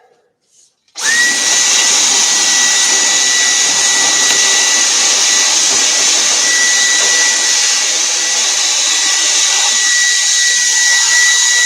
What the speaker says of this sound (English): let's vacuum all this stuff out